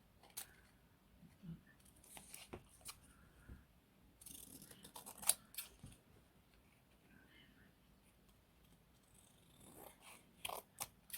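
Scissors snip paper for a junk journal tag, faint close crisp cuts and rustles coming in scattered short bursts, with quiet pauses between them.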